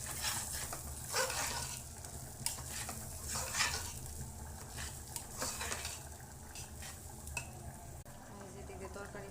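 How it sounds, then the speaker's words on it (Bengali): Pilau rice is stirred and toasted in a pan after the onions, with a soft continuous sizzle broken by repeated scraping strokes of a spoon against the pan, close by with a few faint background sounds. "এখন চালগুলো কষিয়ে ঝরঝরা করে কষিয়ে নেব।"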